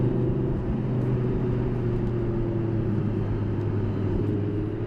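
A deep, steady Audi R8 RWS V10 engine rumble with strong low tonal drone, holding a constant idle-like pitch throughout without revving up or down.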